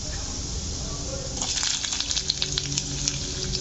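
Ingredients for a green chutney sizzle in a hot pan, a steady frying hiss that sharpens into crackling pops partway through, with background hum and no talk.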